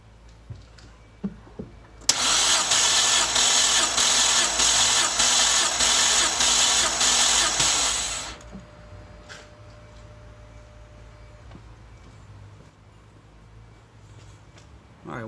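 A car engine cranks on the starter for about six seconds during a cylinder compression test, with a steady fast rhythmic churn that stops abruptly, followed by quieter background and a few clicks.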